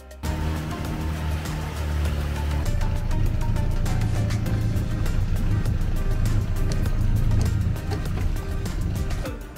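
A boat arrives at the Coron waters to pick up passengers, its steady engine drone rumbling beneath wind and water noise throughout, fairly close and continuous.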